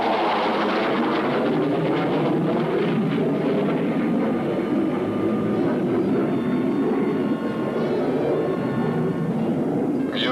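A T-1A aircraft engine roars loud and steady in flight during training maneuvers, a dense continuous jet drone that holds throughout with no pause.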